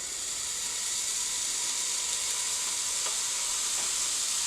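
Steady, close sizzling of protein pancake batter cooking in a pan greased with Fry Light, a continuous bright hiss that holds evenly throughout with no voices.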